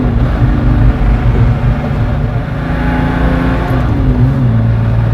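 A Ferrari F50 sports car accelerating hard, its engine a loud, continuous, close-up roar that holds steady and shifts pitch slightly as it pulls, with no talking.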